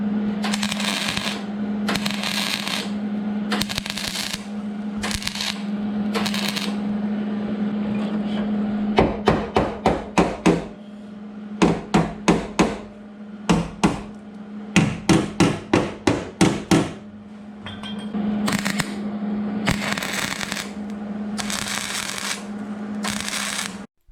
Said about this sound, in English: Now I'm going to weld some at the bottom of it.